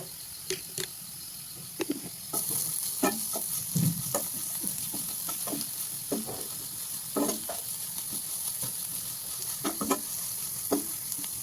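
Onions sautéing in a pan for chicken curry give a steady sizzle, broken by frequent scraping stirs at an irregular rhythm, close and clear, with no talking.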